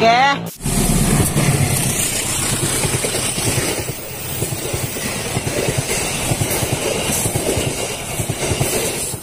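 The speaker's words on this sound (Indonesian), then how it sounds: "Para pecinta kereta api CC203 sudah lewat." A train hauled by a CC203 locomotive rumbles past close by, a loud continuous roar with rhythmic clattering of wheels on rails, after a brief sharp noise at the start.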